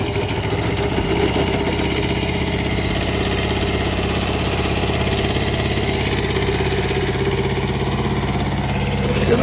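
A small Kubota mini tractor diesel engine idles steadily at close range, a continuous low throbbing rumble with no pauses.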